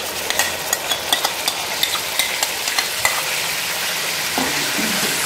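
Whisked yogurt stirred into chicken frying in a handi, cooked as chicken malai handi: a steady close sizzle with a quick run of light stirring clicks and scrapes early on, no voices.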